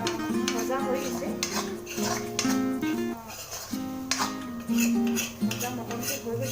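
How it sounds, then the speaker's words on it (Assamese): Chicken pieces fried and stirred in a pan for curry leaf chicken, with a steady run of metal utensil scrapes and clinks against the pan close by over continuous cooking noise. "এতিয়া মই ভালকৈ চিকেনখিনি ভাজি দিম।"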